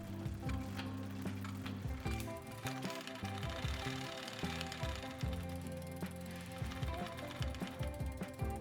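A bicycle front derailleur shifts between chainrings on a Colnago Master-inspired build, giving steady mechanical clicking and whirring of the chain and drivetrain, close up, with repeated ratchet-like ticks.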